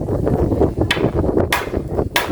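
Three sharp hammer blows, spaced unevenly, ring out over a low rumbling background with no speech.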